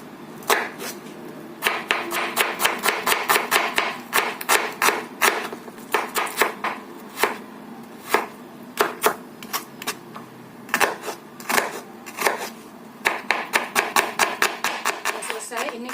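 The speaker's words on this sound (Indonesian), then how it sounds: "Kemudian aku pakai 3 butir bawang merah. Ini kita cop-cop kasar juga ya," Shallots are roughly chopped with a knife on a cutting board in rapid, uneven bursts of crisp taps, close and loud, while someone talks over the chopping.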